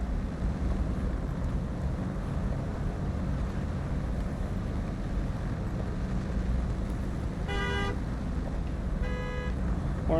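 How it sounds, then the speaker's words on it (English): A Hummer H2 horn in the game SnowRunner, M181 First Responder and JBE versions, gives two short honks near the end over a steady low engine and wind rumble. "Horns are the same."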